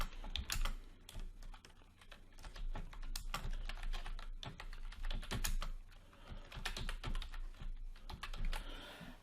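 Rapid, uneven clicking of a computer keyboard as a tagline is typed, close and continuous for several seconds with brief pauses between bursts of keystrokes.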